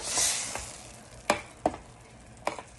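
Ground tomato paste for marinara sauce begins cooking in a pan, with a continuous soft sizzle and bubbling broken by a few sharp clicks of a spoon stirring against the pan, close and alone.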